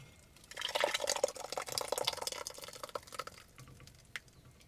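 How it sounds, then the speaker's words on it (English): Silky homemade soup pushed through a small hand-crank strainer at a cozy woodland camp, a close wet trickle and gurgle of liquid running for a few seconds, then fading to a few drips. "Let's put it through this little strainer"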